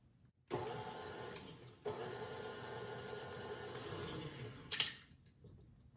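Electric mixer beating wet ingredients together for lemon cookie batter in a bowl, a steady motor whir that starts abruptly, runs for about four seconds with a brief bump, then cuts off.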